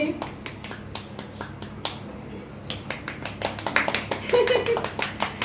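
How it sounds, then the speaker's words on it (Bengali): Sharp hand claps and snaps at a family celebration for a daughter's SSC results, irregular and close, growing denser toward the end, with voices and children talking over them. "হাততালি"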